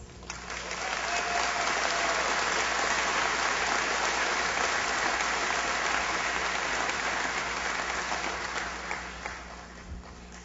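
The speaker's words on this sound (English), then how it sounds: "I believe that my fellow graduates deserve a round of applause" Sustained applause from a commencement audience honoring graduates at Mount Aloysius College, a dense, steady wash of clapping that swells quickly and holds for about ten seconds before tapering off.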